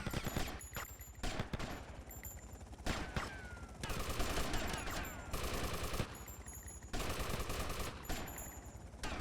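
Rapid bursts of automatic gunfire in the video game GTA Vice City, dense fusillades of sharp shots in repeated clusters, loud and continuous with brief gaps between volleys.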